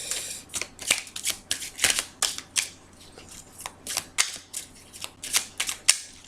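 Tarot cards being shuffled and drawn, a series of crisp riffling snaps and flicks in uneven bursts, close and fairly loud, with no talking.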